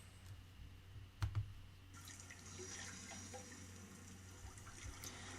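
Running water with added reverb, a steady wash like a tap filling a sink, with a couple of brief clicks early on and a slightly brighter, fuller spread of sound in the second half.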